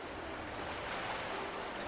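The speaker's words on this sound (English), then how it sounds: "I hear water. Like a whole lot of water." Lots of running water inside a cave gives a steady, dense rushing wash that is fairly faint and unchanging throughout, with no voices over it.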